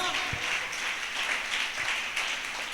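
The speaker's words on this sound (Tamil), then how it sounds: "கைதட்டுவோமா எல்லாரும்?" Congregation clapping together during a Sunday church service, a steady dense patter of many hands that continues throughout, with voices faintly mixed in.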